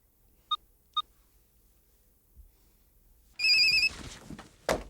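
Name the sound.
telephone ringing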